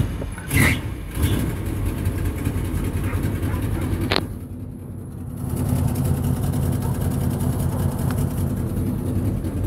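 A 1979 Winnebago motorhome engine idles after a cold start, a steady low rumble that runs throughout, with a brief clatter near the start and a sharp click partway through, close to the microphone.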